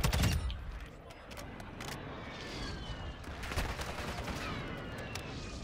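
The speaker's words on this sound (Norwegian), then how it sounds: "Det er skutt på der oppe." Gunfire in the Warzone video game, a sharp nearby shot at the start followed by scattered, more distant bursts and crackling reports under a steady background rumble.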